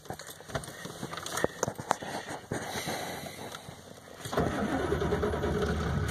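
A 1989 Ford F350 with the 7.3L IDI diesel cranks and starts, with sharp clattering bursts under the starter before the engine catches and settles into a steady, rough idle, heard close with no talking.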